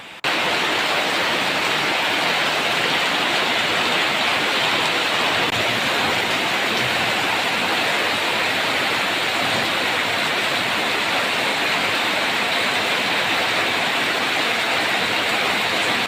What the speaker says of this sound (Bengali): রাতে সুন্দর বৃষ্টি হচ্ছে বৃষ্টির সাউন্ড